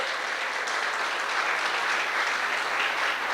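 Steady, dense applause from a church congregation at a Christmas service, filling the space evenly and continuously with no voices standing out.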